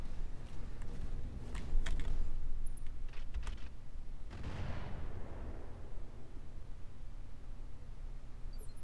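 Mortar artillery barrage in the Roguetech mech game: a cluster of sharp distant blasts and thuds, with a bigger boom near the middle rolling into a long rumbling wash of noise that fades under a steady low drone.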